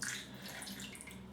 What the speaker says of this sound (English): let me just put some water onto that to start blooming it